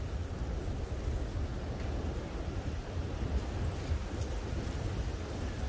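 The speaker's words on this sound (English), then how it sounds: "The wind has definitely gotten worse since I've been out here" Wind gusts steadily across an outdoor campsite in rattlesnake country, a constant low rumbling roar buffeting the microphone with no other clear sounds.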